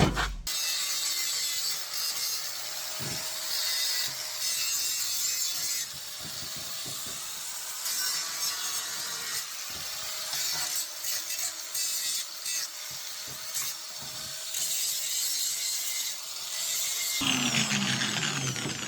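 Power tool grinding and shaving metal from a steel trailer flatbed piece during a flatbed build, a steady, close, continuous abrasive whine with a sustained tone, running almost unbroken for the full length with no talking.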